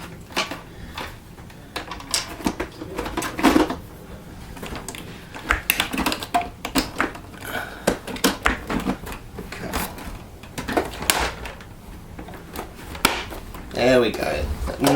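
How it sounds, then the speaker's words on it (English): A Miele S5211 vacuum cleaner body being pressed down and clicking into place during a circuit board replacement, giving a series of sharp plastic clicks and knocks at close range among handling noises. "That nice clicking sound you always get with the Miele"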